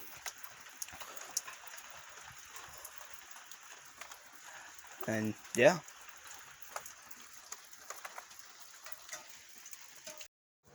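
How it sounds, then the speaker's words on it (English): Steady rain falls outside during a storm while trees are being cut down, a faint, continuous patter through the whole stretch. A person speaks briefly in the middle and a sharp knock sounds nearby. "It's raining out."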